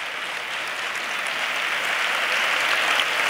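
A crowd at the Ronda Carnival proclamation applauds steadily, a thick, even wash of clapping that holds at full strength throughout without any talk.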